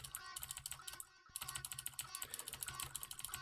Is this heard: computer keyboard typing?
yes